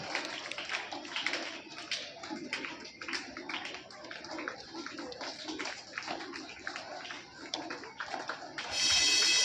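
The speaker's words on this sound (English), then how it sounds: "Let's wish her all the best with a huge round of claps as she receives the charges from our beloved correspondent" A school investiture ceremony audience applauds as a student receives her charge as assistant games captain, a steady, fairly faint patter of many hands clapping throughout with no talk.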